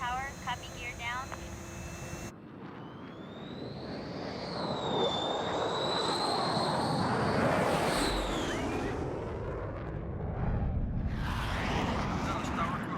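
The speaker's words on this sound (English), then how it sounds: "Otter 1 is cleared to land, runway 21 right" A military jet landing at Nellis during Red Flag exercises, its engine roar swelling and holding loud and close for several seconds with a whining high tone on top, after a brief burst of radio chatter at the start.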